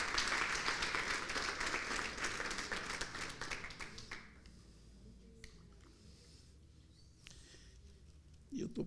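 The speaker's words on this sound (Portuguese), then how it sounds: "Uma salva de palmas para Jesus," Church congregation applauding during a Father's Day celebration service, a dense burst of clapping for about four seconds that fades into quieter room sound with faint scattered noises.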